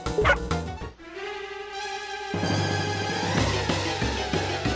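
Synthetic, game-like yapping from a small dog in Shantae: Risky's Revenge, a few quick barks over bright tonal music that continues throughout.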